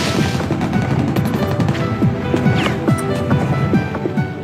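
Chaotic battle din around a building in the Hunter x Hunter anime: dense, continuous clatter of gunfire-like bursts mixed with sweeping whistles and crashes, loud and unbroken throughout.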